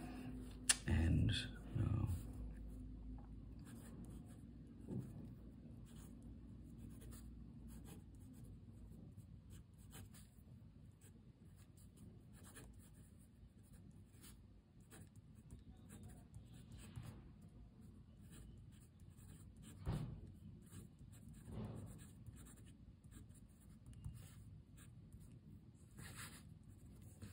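Parker Frontier fountain pen writing on ordinary printer paper, faint scratchy nib strokes, soft and intermittent over a long quiet stretch, with a few louder handling bumps near the start.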